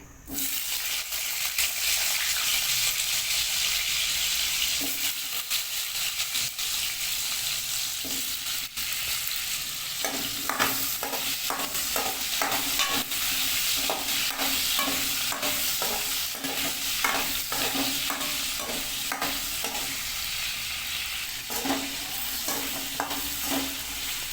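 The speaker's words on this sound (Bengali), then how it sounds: "আমরা আলু ছেড়ে দেবো আলুটাকে একটু ফ্রাই করবো" Potatoes fry in a pan with a loud, constant hiss of hot oil, and from about the midpoint a string of sharp spatula scrapes and taps cuts through the sizzle.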